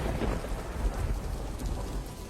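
Steady rain falling with low rumbling thunder beneath it, dense and continuous at a deserted roadside bus stop, loud throughout.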